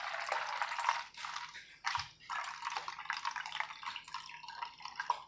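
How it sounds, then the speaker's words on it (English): Water poured off soaked moringa seeds in a container, a close, steady trickle and splash with a few brief breaks and drips, no voices over it. "I'm going to pour the water off of them."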